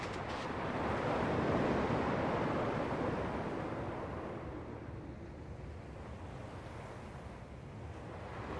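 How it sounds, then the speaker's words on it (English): Ocean waves roll onto a shore in the video game Kingdom Hearts II, a broad continuous wash of surf that swells early and then settles into a steady, softer rush, with no voices. "At least the waves sound the same."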